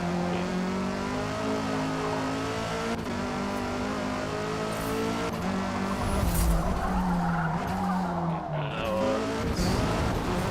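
Race car engine revving steadily with tires skidding and squealing in the Forza Motorsport video game, a loud continuous drone that shifts in pitch through the corners.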